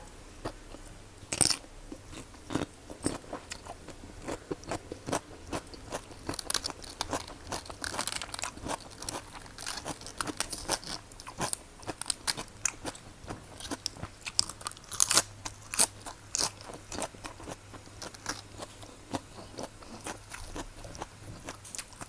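Crisp, crunchy chewing of Lao fried meatballs, close and steady, with repeated sharp bites and crackles continuing throughout with no talking.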